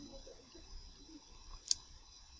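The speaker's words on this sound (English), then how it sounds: "Now press enter button." A single sharp keyboard keypress, the Enter key struck once on a computer keyboard, a brief close click standing out against a quiet room hiss.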